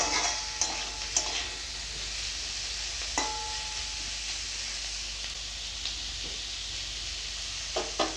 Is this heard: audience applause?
no